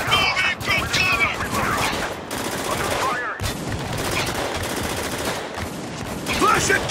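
Gunfire in the war shooter Spec Ops: The Line, dense bursts of automatic fire and scattered shots, loud and close, mixed with shouted voices from the game.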